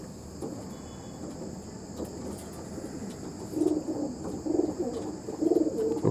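Several pure-breed Chennai pigeons coo softly in a loft, the low murmuring calls swelling in the second half over faint insect-like chirring and a constant hum.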